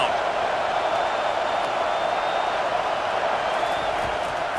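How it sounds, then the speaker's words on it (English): Stadium crowd noise at a Clemson football game on third down: a dense, continuous roar of many voices holds steady and loud throughout, with no break. "Decibels rising as the crowd gets behind this defense on 3rd down"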